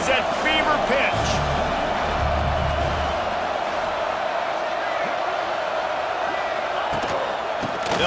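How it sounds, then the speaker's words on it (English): A college football stadium crowd roars loudly and continuously, a dense wall of cheering with a few thuds early on, while a commentator talks over it. "this crowd is at fever pitch"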